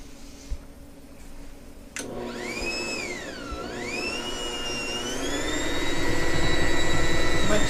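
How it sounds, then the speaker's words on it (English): Electric hand mixer with beaters working thick bread dough, a motor whine that starts abruptly after a click, dips in pitch under load, then climbs and strains steadily louder. "I'm going to change my beaters because it's getting a little thick and I don't want to burn out my motor here"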